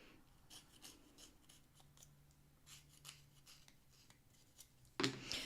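A reed being scraped with a knife during reed making, a series of quick, faint rasping strokes in short bursts, close up and quiet, ending with a louder scrape.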